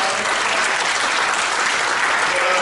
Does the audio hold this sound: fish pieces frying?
no